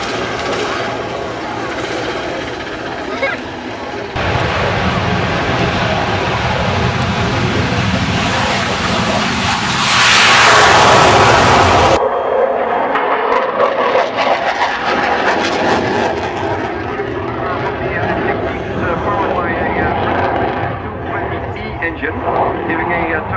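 A Royal Netherlands Air Force F-16 in orange Dutch national colours roars through a flying display at Waddington Air Show, its loud jet thunder building and peaking before fading, with announcer commentary running over it.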